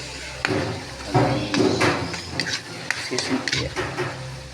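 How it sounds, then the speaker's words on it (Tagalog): Shrimp paste, tomato, garlic and onion are sautéed in a pan, with a steady sizzle broken by repeated scraping stirs and metal utensil clanks against the cookware, close and fairly loud. "Gisa lang natin itong alamang, kamatis, bawang sibuyas."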